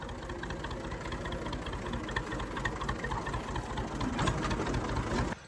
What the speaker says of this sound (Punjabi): ਲੋ ਜੀ ਟਰੈਕਟਰ ਕੱਢ ਲਿਆ